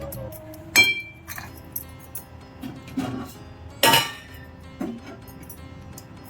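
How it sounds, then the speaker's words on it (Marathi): A metal lid set onto a pot of varai upma (barnyard millet, with curd added) gives a few separate clinks and clanks of metal and glass, spread over about six seconds, close and fairly quiet, with no talking. "यानंतर त्यावर थोडं झाकण ठेवणार"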